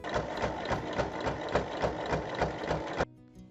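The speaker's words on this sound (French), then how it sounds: "On fait ensuite une surpiqûre sur les trois côtés." A sewing machine topstitching along three sides of a fabric piece runs fast and steady with a rhythmic mechanical chatter, close and loud, then stops abruptly near the end.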